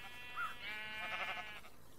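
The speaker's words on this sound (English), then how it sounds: "the Twilight Forest is actually full of sheep" Sheep in the Twilight Forest dimension of modded Minecraft give a few bleats. A short nasal call comes first, then a longer wavering bleat with a faint game hum beneath it.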